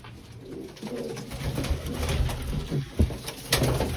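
Wild pigeons, including a red-headed pair, coo repeatedly in soft, throaty bursts, close by, with some rustling and shuffling in the background.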